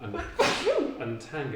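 A single abrupt sneeze bursts out indoors beside a keyboard, briefly cutting through a man's speech that continues before and after it.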